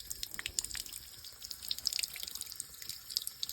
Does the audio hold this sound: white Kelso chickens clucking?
no